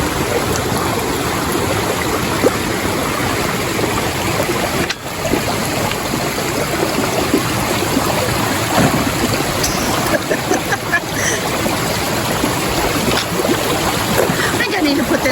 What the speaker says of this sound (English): Another fun creek crossing in the middle of the trail.